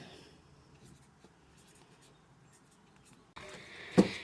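A pen writes on a food label, with faint, sparse scratches that give way to a brief burst of louder scribbling and a sharp tap near the end, and no voices.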